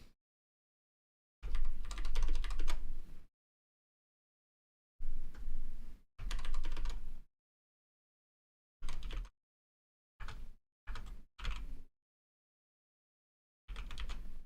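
Computer keyboard typing comes in separate bursts of rapid clicks, close and fairly quiet, with silent gaps in between and no talking.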